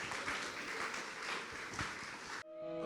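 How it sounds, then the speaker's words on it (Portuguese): A church congregation at a Sunday service applauds for Jesus in a full, steady wash of clapping that cuts off abruptly near the end, giving way to sustained musical tones. "Uma salva de palmas para Jesus"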